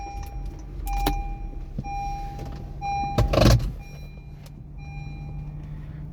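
Inside a 2015 Honda City i-VTEC VX petrol automatic CVT with 53,500 km, repeated electronic chime beeps sound before a short starter burst fires the engine, which settles into a low, quiet idle hum while beeps continue.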